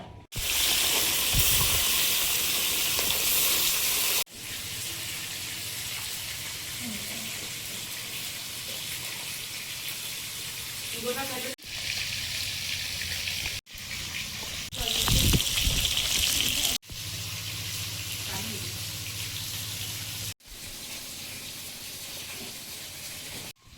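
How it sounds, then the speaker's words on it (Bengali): River fish frying in oil in a wok, giving a steady broadband hiss and sizzle that stops and restarts in several sections, with brief talk over it. "কড়াইতে তেল দিয়ে দিচ্ছি, মাছগুলো ভেজে নেব।"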